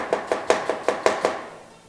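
A knife chops vegetables into very thin sticks on a board for an Armenian kololik (meatball) dish, seven crisp, evenly spaced strokes close by, then a short quiet tail.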